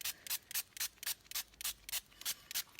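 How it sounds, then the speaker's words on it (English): A spray bottle spritzes rubbing alcohol onto watercolor paper in about ten quick, evenly spaced bursts, each a short close hiss over a quiet background. "I'm going to spritz it with the rubbing alcohol."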